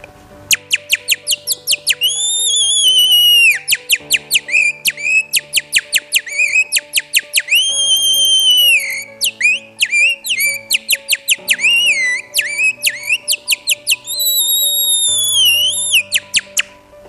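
A man whistles imitations of bird calls, a loud, close run of rapid chirps, trills and sustained warbling phrases with short gaps, alone without speech.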